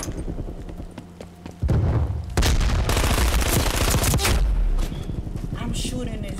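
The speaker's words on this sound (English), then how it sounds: "I'm shooting this dude" Rapid automatic gunfire bursts in the video game Call of Duty: Black Ops Cold War, loud and dense from the middle of the clip onward, with a player talking over the game sound.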